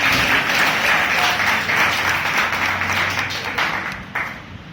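Members at a Toastmasters meeting give a round of applause as an evaluator is called up, steady clapping that gradually thins and fades toward the end.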